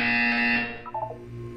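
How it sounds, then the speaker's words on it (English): Buzzer tone from the Portal 2 video game, a loud steady electronic alarm-like drone that holds for about half a second before breaking into a few short warbling blips and fading. "You will hear a buzzer."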